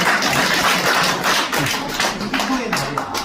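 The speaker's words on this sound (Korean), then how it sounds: "박수 한번 때려야죠" A seminar audience at a Korean business presentation on ARK DeFAi breaks into brisk, dense clapping, a loud continuous patter of many hands lasting the whole moment.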